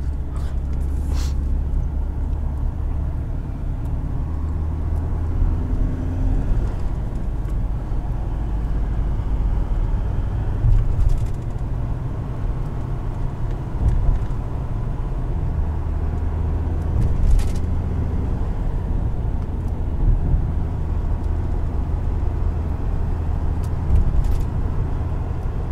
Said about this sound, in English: Oh, diesels make the coolest little noises.